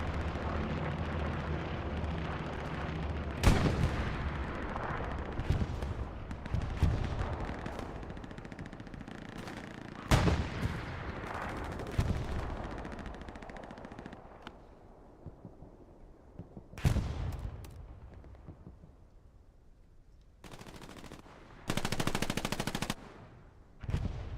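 Gunfire in the WWII game Hell Let Loose, with a Panzer IV tank roaming and firing: heavy booming shots and rattling machine-gun bursts over a constant battlefield rumble, some blasts loud and close, others distant.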